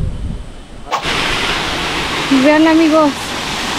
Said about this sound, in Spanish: estamos llegando a la cascada